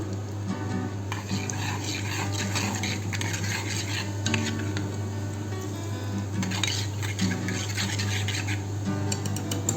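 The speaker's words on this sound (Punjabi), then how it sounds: "ਜ਼ੀਰੇ ਨੂੰ ਆਪਾਂ ਚੰਗੀ ਤਰ੍ਹਾਂ ਭੁੰਨਾਂਗੇ" Cumin seeds roast in a pan while a utensil stirs and scrapes against the metal, making steady clinking and scraping over a constant low hum and faint sizzle.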